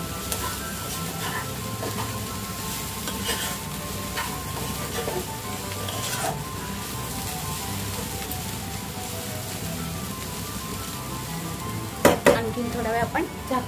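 Fodashi leafy greens cook in a pan with fresh grated coconut, giving a steady close sizzle with scattered stirring scrapes and a few louder clatters near the end.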